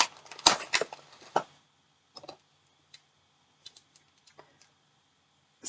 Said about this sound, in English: I'm going to shuffle things around a little bit.